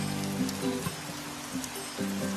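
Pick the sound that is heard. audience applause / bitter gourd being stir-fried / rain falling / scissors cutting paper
rain falling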